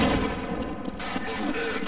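In the Half-Life mod Smart Decoy, a video game grenade goes off as a dense, loud burst of blast noise and rumbling debris that fills the whole short stretch, with no clear talk over it.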